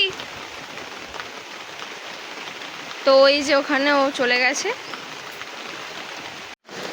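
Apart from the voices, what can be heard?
heavy rain falling outdoors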